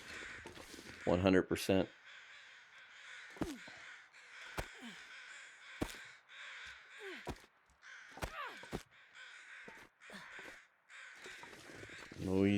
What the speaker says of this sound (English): Noisy, noisy crows.